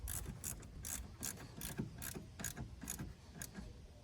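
Quick, evenly spaced clicks of a ratchet wrench tightening the negative battery cable on a Toyota Tundra, about a dozen close ratchet strokes in a steady rhythm with no talk.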